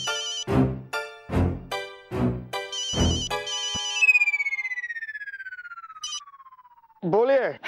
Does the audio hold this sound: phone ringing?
yes